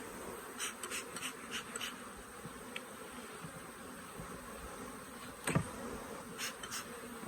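Steady buzzing of many honeybees around a hive, a continuous close drone with individual bees flitting past.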